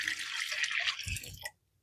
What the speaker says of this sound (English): So now I'm going to be putting the 2 cups of milk